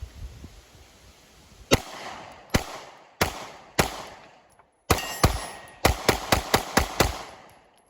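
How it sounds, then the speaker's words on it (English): Sharp, loud pistol shots from a Canik Mete MC9 on a range, fired singly at first and then in quicker strings, with short gaps between groups. "let's put some rounds down range together"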